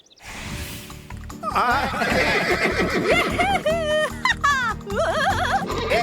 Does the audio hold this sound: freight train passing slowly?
no